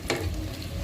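Chicharon bulaklak, crispy deep-fried pork intestine, frying in hot oil, a steady close sizzle and crackle throughout with a brief louder burst near the start.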